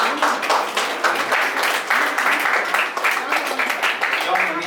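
A church congregation claps at a song release service, with steady, dense applause running throughout and voices audible over the clapping.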